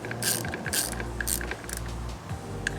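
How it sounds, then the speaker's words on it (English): A tiny ratchet tightens motorcycle clutch spring bolts on a Benelli TNT135, clicking in several quick close-up bursts of pawl clatter separated by brief pauses. "so I'm just using my little teeny weeny ratchet here."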